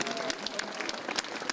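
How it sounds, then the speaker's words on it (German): An audience at a castle Christmas concert in Zwickau claps after the final song, dense, lively applause with a few cheers, close and full throughout the short burst. "Applaus"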